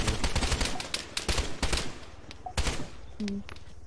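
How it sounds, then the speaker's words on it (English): Gunfire in the military shooter game Arma 3 with an Mk 18 ABR rifle, rapid bursts of loud shots clustered early, then sparser single cracks and faint distant firing. "I only heard his gunshot and then was firing in the direction of the gunshot"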